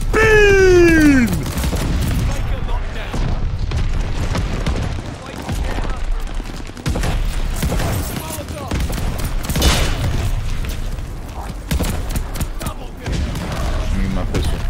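Pistol and mixed gunfire crack in the World War II shooter Call of Duty Vanguard, rapid loud shots scattered through busy game noise and chatter from players talking.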